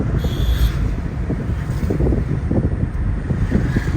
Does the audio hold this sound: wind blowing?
yes